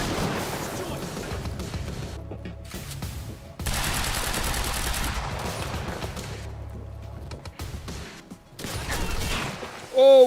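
Quantum Break firefight, sustained gunfire and heavy booming shots in thick bursts with brief lulls between them, loud and close, with a little speech mixed in.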